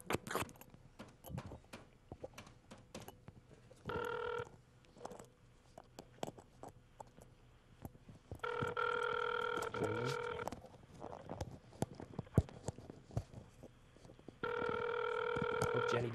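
A phone rings repeatedly after a call is placed to the number 867-5309, with steady tonal ring bursts around 4, 8.5–11 and 14.5–16 seconds, interspersed with handling clatter, short clicks and quiet voices.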